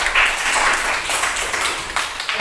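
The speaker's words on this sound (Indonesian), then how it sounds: "Tepuk tangan dulu untuk dua teman kalian." Classmates in a school classroom clap for two fellow students, a dense burst of many hands applauding together at close range that stays steady throughout, with no voices over it.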